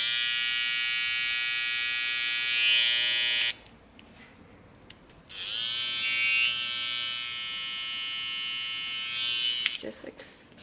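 Babyliss Pro FX Skeleton hair clipper running with a loud, steady, high-pitched motor buzz. It cuts off abruptly for about two seconds, then a second clipper starts up and hums continuously to the end.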